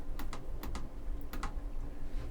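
Several sharp, quick computer mouse clicks come in small clusters against a quiet room background, close and crisp.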